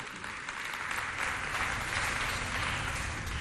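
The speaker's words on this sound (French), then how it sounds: "On l'applaudit bien fort." A crowd claps loudly for a young girl called to the stage at a youth holiday debate event, steady dense applause that swells slightly partway through and carries on without talk.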